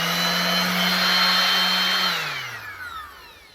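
A DeWalt DWE6423 random orbital sander whirs loudly and steadily at close range, then switches off and spins down quickly to quiet.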